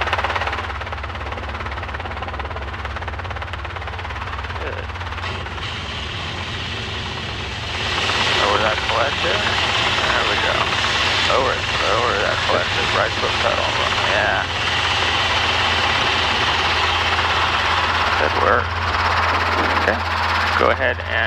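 Helicopter engine and rotor drone from a flight-school running landing on front skids, steady and close throughout, swelling louder midway, with radio and instructor talk over it.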